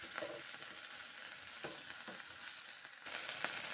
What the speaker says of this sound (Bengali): ঘি গরম হয়ে গেছে। ম্যাগি সেদ্ধ করা ছিল, এখন দিলাম,